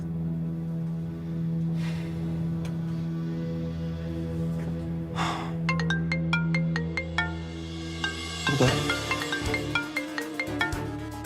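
A mobile phone ringtone plays indoors over a steady hum, starting quietly and then growing into a loud, rhythmic electronic ring in the last few seconds, with no one speaking.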